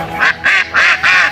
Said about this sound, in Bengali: হাঁসগুলো একসাথে ডাকলে অনেক ভালো লাগে